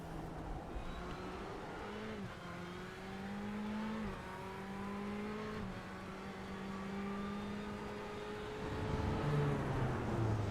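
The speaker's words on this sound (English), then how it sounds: "Just staying on board with Justin Wallace, seeing how this Ferrari goes around these tight corners against this Beamer" A Ferrari GT car racing a BMW through tight corners in the iRacing sim at Interlagos, its engine note climbing and dropping through repeated upshifts and downshifts, steady and moderately loud with another car's drone behind.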